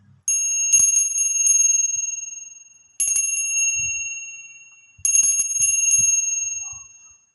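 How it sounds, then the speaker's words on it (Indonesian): A bright metal bell rings three times, each strike ringing out and decaying over a couple of seconds, clear and close in a quiet room. "kita akan memulai dulu dengan yang namanya tanda lonceng berbunyi."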